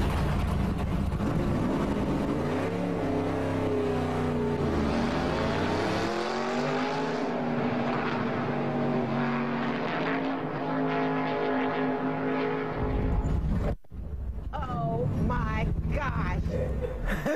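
A NASCAR race car running at around 170 mph on Charlotte Motor Speedway, heard from the passenger seat as a loud, steady engine roar with rising pitch sweeps and voices talking over it throughout.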